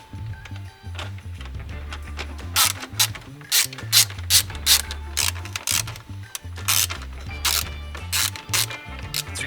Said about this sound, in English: So grab your 10 millimeter socket and undo all 4 of those.